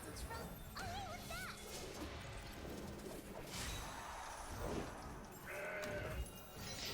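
Goat bleats from the Legends of Runeterra card game ring out over busy game music and crashing effects, a couple of short wavering cries near the start and another later, fairly quiet overall.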